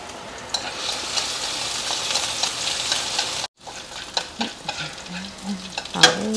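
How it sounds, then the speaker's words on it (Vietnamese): Minced shallots and garlic stir-fried in a hot pan for a beef dish, giving a steady close sizzle with scraping and stirring clatter throughout, a brief gap midway and no talking. "Mấy hành tím băm, mấy tỏi băm vô."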